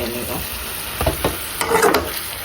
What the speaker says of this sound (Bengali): মাংসটা কষিয়ে নিচ্ছি, কষিয়ে একদম ভাজা ভাজা হয়ে গেলে পানি দিব